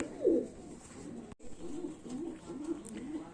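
Pigeons coo softly in low, repeated throaty rolls, fairly quiet, with faint background ambience and no talk.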